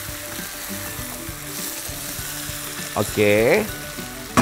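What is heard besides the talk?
beef ribs stirred and sizzling in fried spice paste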